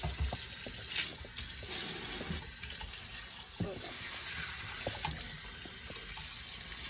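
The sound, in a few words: rinsing canned beans under the sink tap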